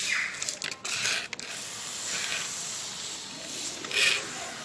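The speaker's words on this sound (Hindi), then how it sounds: "इसको हम पानी देंगे आप शावर से" A shower head sprays water over a potted hibiscus air layering, giving a steady broad hiss of spray with a few brief changes in the flow, close and fairly even throughout.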